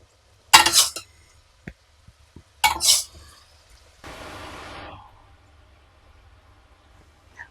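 Tamarind rice being stirred in a vessel: two bright metallic clinks of a spoon against the pot, then about a second of soft scraping as the rice is mixed.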